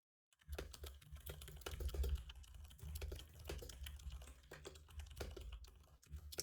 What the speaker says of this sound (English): Can you hear me typing on my keyboard with this mic setting?